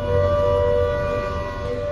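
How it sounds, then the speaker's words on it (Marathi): Civil defense air raid siren calling people to shelter in basements, sounding as a loud, sustained, steady wail with a slight dip in level, no voices present. "सायरन वाजल्यावर नागरिकांनी तळघरात जाऊन लपावं।"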